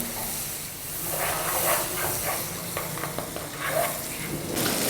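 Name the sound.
chopped tomatoes added to frying masala, sizzling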